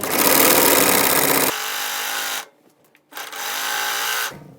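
An industrial overlock sewing machine runs loud and steady while hemming a t-shirt, then cuts out briefly and starts up again for a second run before stopping.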